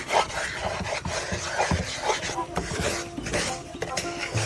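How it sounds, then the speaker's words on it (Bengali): Semolina being stirred and fried in a pan for sweet halwa, a soft scraping and rasping of a spoon against the pan in irregular strokes, fairly quiet and close, with a few light metallic clinks. "যাতে না লেগে যায় তাই আমি নেড়ে ছেড়ে দিচ্ছি"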